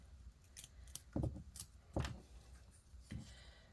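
Heavy-duty scissors snip paper for a Harry Potter diorama craft, four or five crisp close cuts at uneven intervals over quiet room tone.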